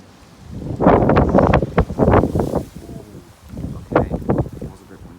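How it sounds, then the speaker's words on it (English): Strong gusts of Storm Ciara roar across the microphone in loud surging bursts, rising and falling over several seconds with brief lulls between them. "Okay, it was a bit windy there."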